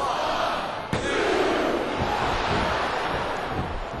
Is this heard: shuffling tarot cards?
no